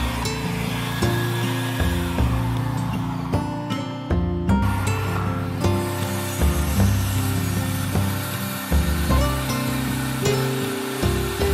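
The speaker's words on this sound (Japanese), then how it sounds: "厚さ 9mm の合板を 25cm×4cm で2枚切り出します" Plywood 9 mm thick being sawn into 25 by 4 cm pieces, a steady close, loud run of rasping saw strokes with brief pauses and knocks of the board.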